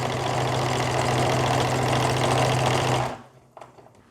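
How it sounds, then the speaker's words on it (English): A sewing machine stitches the hem of a maxi skirt with a steady, close, continuous whir for about three seconds, then stops abruptly into near silence. "smooth the curve and sew forwards"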